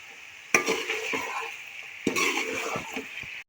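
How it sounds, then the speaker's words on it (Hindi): Mutton, about 1.5 kilos, dropped into hot ghee and frying, with two sharp bursts of sizzle followed by a sustained crackle and a few stirring scrapes. "इसको भूनेंगे, इसी तरह घी में हम फ्राई करेंगे।"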